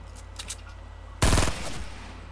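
A single loud shotgun blast in Fortnite, sharp and close, followed by a short decaying rumble, after a couple of faint earlier taps over a steady low hum.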